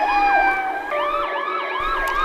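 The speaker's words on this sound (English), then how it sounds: "An ambulance raced all the way from town and carried away poor Mrs. Brown." A wailing ambulance siren sweeps up and down repeatedly, loud and close, with a second siren tone layered over it and traffic rumbling underneath.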